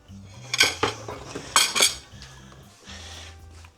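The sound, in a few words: adding potatoes to chicken soup in a pot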